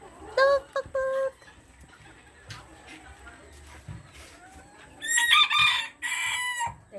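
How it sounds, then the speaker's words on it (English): Bantam chickens: a rooster gives loud, close crowing calls in two separate bursts, and hens cluck in short notes between them, with quieter farmyard background sound. "There's tons of chicken there too."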